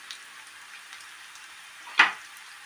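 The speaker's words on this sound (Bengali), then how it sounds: "আমি পেঁয়াজটা একটু ফ্রাই করে নিই" Onions frying in a pan: a faint, even sizzle runs throughout, with one sharper sputter or stir near the end, close and otherwise quiet with no talk.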